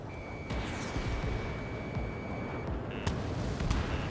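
A steady high warning tone sounds in Ace Combat 7 Skies Unknown, a single held pitch for a couple of seconds, then short repeated beeps over a constant rumbling engine drone from an F-14 or F/A-18E fighter jet.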